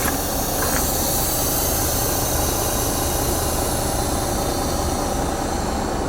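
A 2007 Volvo 880 truck with an 18-speed Eaton Fuller UltraShift transmission idles before pulling away, giving a steady, even engine drone with a hissing wash and no change in level throughout.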